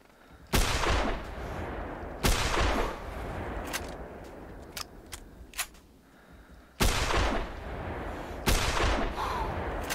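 Shotgun blasts ring out during a snow goose hunt in theHunter Classic. Four loud, sharp reports come at irregular intervals, each with a rolling outdoor echo, and faint brief clicks fall in between.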